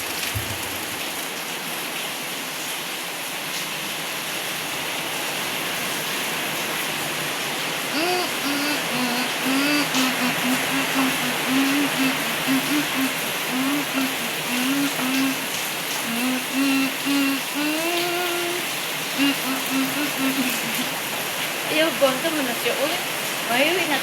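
Heavy rain pours down steadily in a continuous loud hiss of drops, with voices talking underneath.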